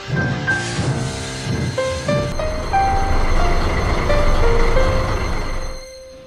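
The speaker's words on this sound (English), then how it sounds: "Diesel and Rosie were shunting the scrap train for their yard" A scrap train rumbles through a yard with its wagons being shunted, giving a loud, continuous rolling clatter. High metallic wheel squeals and tones rise and shift over it, then the noise drops away sharply at the end.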